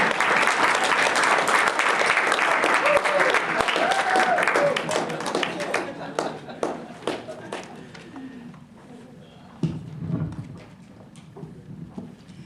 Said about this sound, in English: Would you please give me a big welcoming round of applause for Josephine Lang